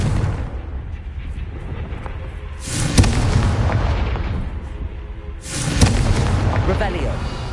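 Two heavy Confringo spell blasts from Hogwarts Legacy erupt as loud rumbling booms, each followed by a sustained roaring wash that lingers for a couple of seconds.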